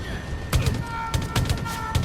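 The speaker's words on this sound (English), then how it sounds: "Ow, stop shooting me, sir." Bursts of Far Cry 5 gunfire from the arcade maps mode, several sharp shots spread in an irregular rhythm over a steady background, with a few close, loud cracks.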